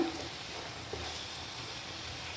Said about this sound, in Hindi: एक से 2 मिनट मैंने इसको अच्छा सा भून लिया है मीडियम आंच पे।